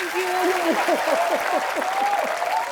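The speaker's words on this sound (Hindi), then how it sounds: "आप सबकी जोरदार तालियों के बीच" Steady studio audience applause on a comedy talk show fills the space, with a host's voice calling out over the clapping throughout.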